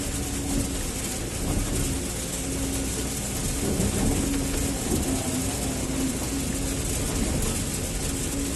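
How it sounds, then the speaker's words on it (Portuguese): Steady rain falling outdoors beside a working CAT 312D hydraulic excavator clearing coffee and banana plants, a constant broadband hiss with a low engine drone and hum running underneath throughout. "Tá chovendo."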